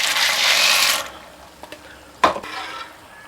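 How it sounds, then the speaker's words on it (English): Eight ounces of elbow noodles are poured into boiling water, a rushing hiss for about a second, then quieter bubbling with a sharp splash or clink midway. "Now with the water boiling, we're going to add our 8 ounces of elbow noodles."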